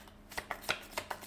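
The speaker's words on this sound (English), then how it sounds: "So I guess I'll do like some card shuffles." Playing cards riffle-shuffled up close, a quick run of seven or eight crisp, bright bursts in an uneven rhythm with short gaps between them, no voices.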